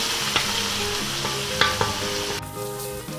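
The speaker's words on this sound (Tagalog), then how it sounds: "Ngayon po ay maglalagay na po tayo ng soy sauce dito sa ating kawali. Tapos hahaluin lang po natin." Rice noodles for pansit bihon stirred with soy sauce in a frying pan, a continuous sizzle with a few sharp scraping knocks of a utensil, fairly close, then the sizzle quietens toward the end.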